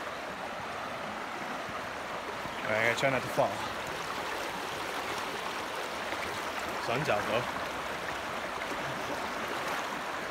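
A creek flowing after a rain storm, heard as a steady, broad rush of water close by, with someone talking briefly over it twice.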